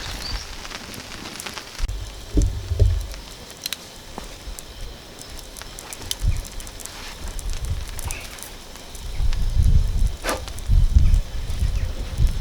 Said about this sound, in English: Now it's started pouring down.